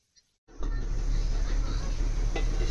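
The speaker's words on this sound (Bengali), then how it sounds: "একটু ভালো করে ভেজে নেব পেঁয়াজটা।" Chopped onions fry in hot oil for a mutton curry, a steady broadband sizzle that starts abruptly after a short quiet and holds loud and continuous, close up, with no talk.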